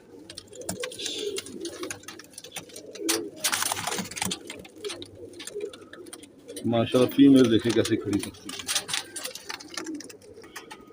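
Pigeons of the Mian Sahab breed, a flying kabootar with a standing-tail female among them, coo softly in bursts at close range while someone talks over them, with bird calls scattered through the background.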